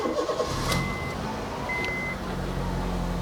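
Engine of a 2011 Honda Jazz GE8 RS facelift with automatic transmission cranks and starts, settling into a steady close idle, with a couple of brief chime-like beeps from the dashboard.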